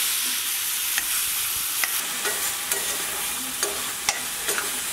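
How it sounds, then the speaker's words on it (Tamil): Chopped tomatoes and onions with salt cook in oil for tomato kulambu, giving a steady close sizzle with sharp intermittent clicks and scrapes of a spoon against the pan. "கொஞ்ச நேரம் எண்ணெயில் வேகட்டும்"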